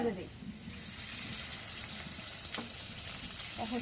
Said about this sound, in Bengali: এখন কড়াইয়ে তেল দিয়ে দিই।